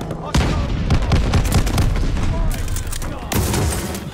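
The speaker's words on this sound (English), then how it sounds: "I just shot 5 shots and nothing happened" Rapid gunfire in the video game Call of Duty: Vanguard, with bursts of sharp shots and booming impacts cracking in close succession, loud and dense with brief gaps.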